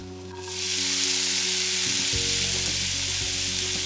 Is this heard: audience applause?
no